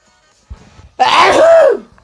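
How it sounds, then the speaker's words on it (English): One loud sneeze up close, a short breathy intake followed by a sharp, forceful burst lasting under a second. "That's a big ass sneeze."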